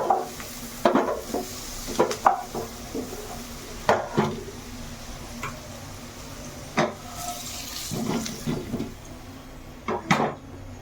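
Fried potatoes being stirred in a kadai, with a spoon scraping and clanking against the pan in irregular, sharp knocks and little steady sizzle beneath.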